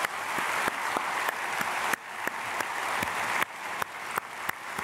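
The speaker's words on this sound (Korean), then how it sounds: "박수로 축복하겠습니다." Applause from a Korean church congregation at a Sunday service, a steady wash of clapping with sharp periodic accents cutting through, filling the room at moderate distance without any voices on top.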